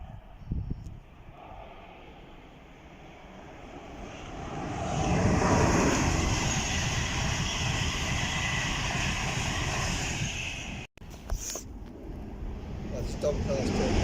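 An LNER class 800 train runs through Biggleswade station on a Doncaster to London King's Cross service. A loud, swelling rush builds over several seconds and holds steady as the train passes close by.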